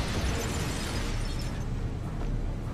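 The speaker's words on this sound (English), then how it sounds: "I love how they threw a grenade out as well." A grenade explosion in the Wolfenstein shooter, heard as a dense rumbling boom that stays loud and rough across the whole moment with no talk over it.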